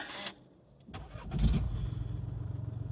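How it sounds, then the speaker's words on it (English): A keyless push-start car engine cranks briefly and catches, then settles into a steady, pulsing idle close by. "I hopped in the car, and obviously I wanted to see how it starts"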